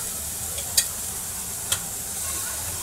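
Dry vegetable dish frying in a kadhai, a soft continuous sizzle with two sharp scrapes of a stirring spoon against the pan.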